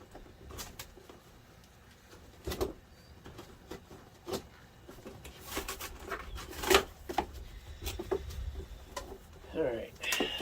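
A cardboard box holding a Hart telescoping scrubber kit is opened, giving scattered crackles, taps and tearing scrapes at an irregular pace, fairly quiet, with short bursts of louder rustling.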